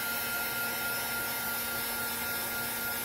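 A heat embossing tool warming up over a card, giving a steady, loud whirring blower hum with no breaks and no talking.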